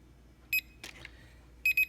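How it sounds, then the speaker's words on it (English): Short high electronic beeps from an SJRC S20W GPS drone remote controller sound in small bursts, a pair early and a pair at the end, with a few softer chirps between, close and clear. "you can hear some beeps and see the lights flashing there"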